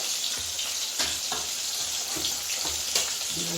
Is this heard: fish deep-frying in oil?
yes